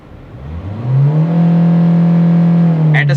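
At a standstill, the diesel engine of a 2020 Kia Sonet HTX+ manual is revved up from idle. It holds a loud, steady high-rpm drone for about two seconds, then a brief click is heard as it starts to fall away.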